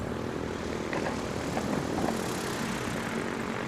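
Racing light aircraft, a Kit Fox and a Carbon Cub, fly at the STIHL National Championship Air Races, a steady propeller engine drone heard at a distance, faint and continuous without voices.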